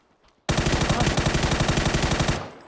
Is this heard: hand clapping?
no